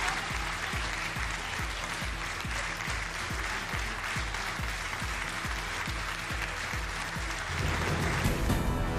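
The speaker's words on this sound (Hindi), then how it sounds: "इजरायली सांसदों ने तालियों की गड़गड़ाहट के बीच खड़े होकर किया पीएम मोदी का स्वागत" Israeli Knesset members give Prime Minister Modi a sustained round of applause in the parliament chamber, dense and steady for most of the stretch before swelling into a louder, more diffuse crowd sound near the end.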